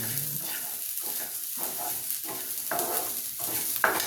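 Black oil sizzles and spits in a pan while gongura pachadi cooks, a steady frying hiss broken by intermittent stirring scrapes, close and moderately loud.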